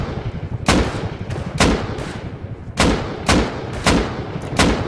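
Gunfire in the video game Rust: about eight sharp, loud shots at irregular intervals, some close together, each a broadband crack over a steady rumbling background with no talk.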